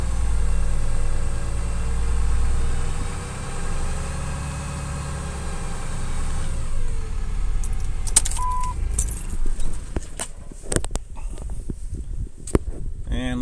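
A Ram 2500 with a 2019 6.7 diesel engine swapped in for its original 5.9 sits at high idle with a steady low drone, then keys jangle and rattle loudly up close over the running engine.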